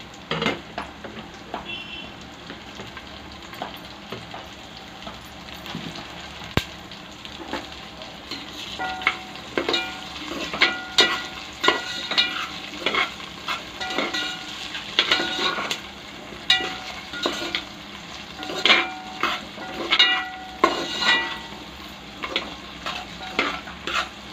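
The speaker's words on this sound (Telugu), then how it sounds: "అందులో గీ కూడా వేసేసుకోవాలి అలాగే మనం ముందుగా కట్ చేసి పెట్టుకున్న కూరగాయలు ముక్కలని ఇందులో వేసేసుకోవాలి" Chopped vegetables frying in ghee for a village-style vegetable pulao, a steady sizzle broken by repeated spoon scrapes and clinks against the pot, close by and rhythmic.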